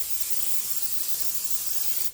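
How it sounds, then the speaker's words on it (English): Cooking spray hissing onto a pan for bagels, one steady, close aerosol spray of about two seconds that cuts off abruptly. "Just spray pan so that it doesn't stick in the bottom when it's cooked."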